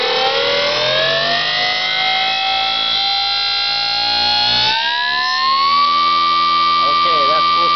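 A 7kW Colossus electric motor running at full throttle, around 6,300 RPM, giving a loud, steady high-pitched whine that steps up in pitch partway through.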